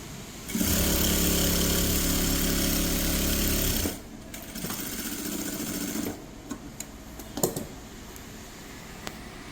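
Sewing machine stitching old saree fabric into a frock, a loud close mechanical whir running continuously for a few seconds, then stopping and giving way to quieter handling noises and a few clicks.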